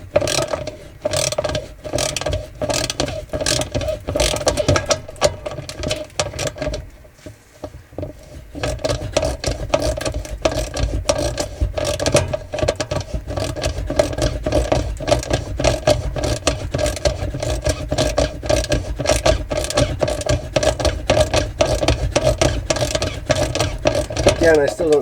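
Ratchet wrench working stiff bolts loose from the radiator of a 2006 Jeep TJ during radiator removal: steady rapid clicking close by, pausing briefly around the sixth second, then resuming continuously.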